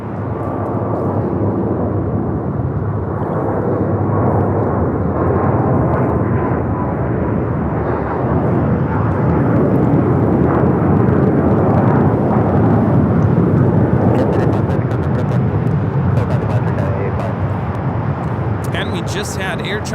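A Cathay Pacific Boeing 777-300ER heading for Hong Kong, departing LAX, sends out a long, broad jet roar that builds and holds, then fades, while people talk over it.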